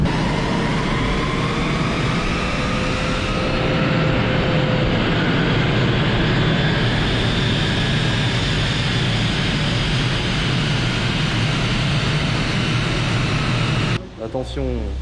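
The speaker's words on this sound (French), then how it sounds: "on monte au régime maximum et après on met en neutre." A BMW engine on a chassis dyno roars at maximum revs as a steady, loud drone with rising harmonics, then winds down while coasting in neutral; speech is audible near the end.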